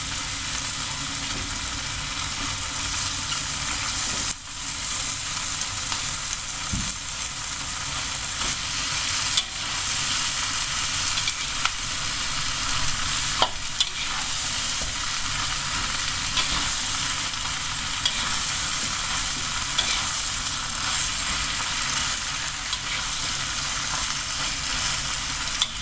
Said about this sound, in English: Basically, you just mix until the curry mixes evenly coated on the vegetables